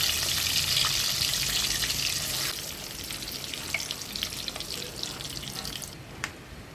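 Eggs fry in oil with turmeric, a dense, close sizzle with scattered pops that gradually softens and thins toward the end.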